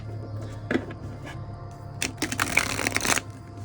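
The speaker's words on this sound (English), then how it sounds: "That was a terrible shuffle" A tarot deck being shuffled by hand, a couple of soft riffles followed by a longer burst of crisp card flutter and snapping, close and alone over a faint background hum.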